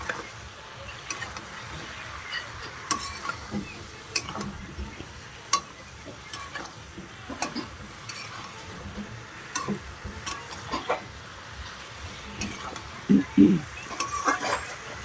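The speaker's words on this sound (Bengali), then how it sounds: "এটাকে ভালো করে কষাই করে নিতে হবে, হুট করে জল দিতে যাবে না।" Vegetables with fish, eggplant and potato are sautéed in a pan, a soft steady sizzle under irregular scraping and tapping stir strokes, fairly quiet and close.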